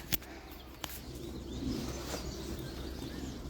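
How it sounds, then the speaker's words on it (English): Finches chirping around backyard bird feeders on a warm sunny morning, light scattered calls against a low outdoor rumble, a couple of sharp knocks early on. "Finches are out. You can hear them. They're right there around the bird feeders."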